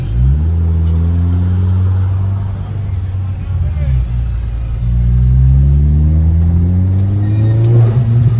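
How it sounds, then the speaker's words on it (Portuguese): A Volkswagen Jetta TSI engine hums and revs as the car is driven, its pitch rising and falling through acceleration in two swells, loud and close. "vamos lá que eu vou levar o carro pro sol"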